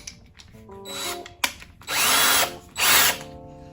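Power drill fitted with a 17/64 drill bit, whirring in two short bursts after a few clicks and taps, close and moderately loud, with no talking.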